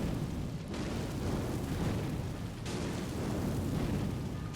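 A fire spell thrown in Elden Ring bursts with a steady, roaring rumble that fills the whole stretch, swelling again partway through, loud and close with no talk over it.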